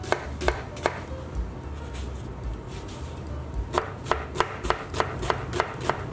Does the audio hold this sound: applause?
no